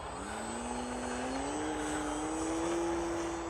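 A model Druine Turbulent airplane flies overhead at a model aircraft field, its small engine giving a steady buzzing drone that climbs slightly in pitch as it passes, moderately distant and continuous.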